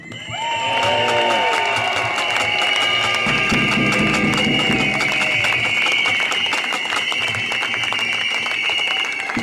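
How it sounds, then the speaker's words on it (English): Large outdoor crowd at a trade union march and rally cheering loudly, with whoops, shouts, clapping and rattling noisemakers in a sustained, dense roar that builds and holds. "A huge cheer for turning out."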